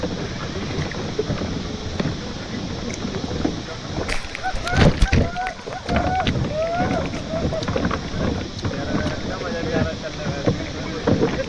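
A boat moves slowly across the sea off Carol Beach in Phuket, a steady engine and water wash rumbling under wind noise, with people talking throughout and a few knocks midway.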